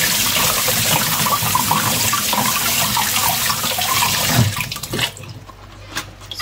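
Tap water runs steadily into a kitchen sink while zucchini are washed under it, a close, continuous splashing that cuts off near the end, leaving only a few faint drips and handling noises.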